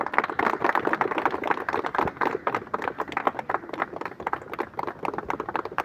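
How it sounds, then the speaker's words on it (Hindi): An audience claps to honour a BSF recruit at an academy event, producing a dense, continuous patter of many hands at moderate loudness throughout. "एक बार फिर से जोरदार ताली"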